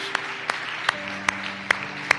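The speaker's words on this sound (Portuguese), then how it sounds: "Dê un aplauso a Cristo una vez más, porque Ele se merece" Congregation applause in a church: a run of sharp, evenly spaced claps on a steady beat, about two or three per second, over a low sustained musical tone.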